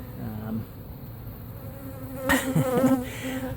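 Honeybees at a hive under a mobile home in Lakeland, Florida, making a faint continuous buzz, with a louder nearby bee droning briefly close by toward the end.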